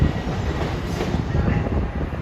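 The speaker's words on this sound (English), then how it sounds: "There's a couple of diesels coming in." LIRR diesel train arriving at Jamaica station, a loud close rumble of wheels and engine filling the whole moment with steady low-pitched roar.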